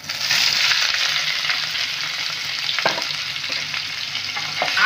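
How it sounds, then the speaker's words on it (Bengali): Mango pieces fry in hot oil tempered with panch phoron (five-spice) for a sweet-sour-spicy mango pickle. A steady, bright sizzle runs throughout, with occasional soft scrapes from stirring. "আমগুলো এই তেলের মধ্যে খুব ভালো করে ভেজে নিতে হবে।"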